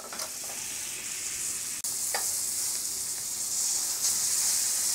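Crow fillets pan frying in seasoning, a bright continuous sizzle close up with a few short stirring and shifting sounds and one brief break in the hiss.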